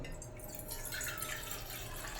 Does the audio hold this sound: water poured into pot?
yes